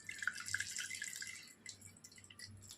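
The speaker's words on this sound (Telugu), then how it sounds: "చింతపండు రసం పోసేస్తాను." Tamarind juice is poured into a pot of village-style fish curry, a faint, steady trickling and splashing of liquid with no talk.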